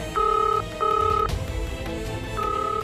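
A telephone rings in repeated electronic bursts, three rings separated by short pauses, with no answer in between.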